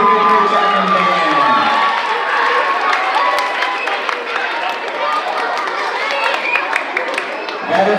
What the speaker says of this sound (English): Let's keep that applause going for the parents here of the 5th grade Chapman Band.